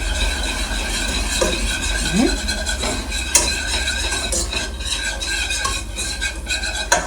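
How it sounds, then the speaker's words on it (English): Flour stirred into oil in a pan for a vegan scalloped potato dish gives steady close scraping and swishing strokes with a faint sizzle underneath, with no talk. "we're going to stir that in our oil"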